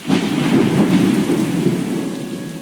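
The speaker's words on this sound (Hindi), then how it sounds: "एक दिन गांव पर एक भयंकर तूफान आने वाला था।" A fierce thunderstorm over a village: heavy rain hisses continuously beneath deep rolling thunder, loud and close, with no voices present.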